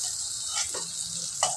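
Pointed gourds frying in a pan, a soft continuous sizzle with a few sharp pops and spatters breaking through, near and fairly quiet, without talk.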